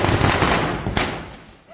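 A 100-wala string of Diwali firecrackers bursts in a rapid, dense volley of sharp cracks, loud and close, tailing off after under two seconds.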